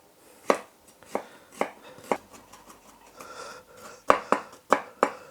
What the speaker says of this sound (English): I'm just going to finely chop.